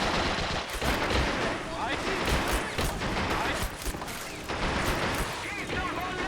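Gunfire in the video game Men of War Assault Squad 2 crackles in dense, loud bursts, with rifle and machine-gun shots and booming blasts overlapping almost without pause.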